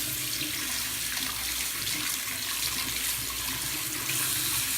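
Warm tap water for a ferret's bath runs in a steady, full hiss from the faucet, close and unbroken for about five seconds with no talking.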